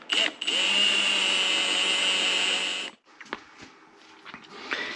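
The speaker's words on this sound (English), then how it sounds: "I'm going to use a step drill because it's cleaner. Drill's a perfectly nice hole." A power drill with a step bit whines loudly and steadily for about three seconds, drilling a hole for a GPS install on an Arctic Cat snowmobile, then stops, followed by quieter clicks and handling noises.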